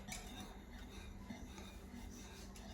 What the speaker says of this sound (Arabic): خليكم كتحركوا فيه باش الطحين كاع ما يلصق لكم في الكاسرونه اللي كديروا فيها